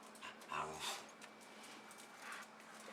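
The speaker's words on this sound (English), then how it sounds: "She barked loud, dude." A hunter's dog, recorded indoors, gives a couple of short barks and whimpery yips at close range. Room noise and a faint voice sit beneath them.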